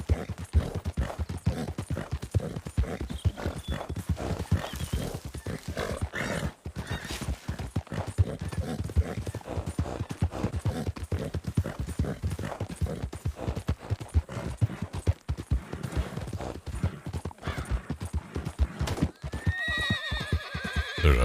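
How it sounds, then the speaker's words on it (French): A horse in a video game clip-clops in a fast continuous hoof rhythm, loud and close, with neighs and whinnies breaking in now and then. "Le cheval qui est bourré aussi"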